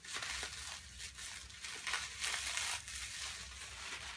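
Plastic packaging of a bubble wrap parcel crinkles and tears in a run of close, irregular bursts, fairly quiet with no talking.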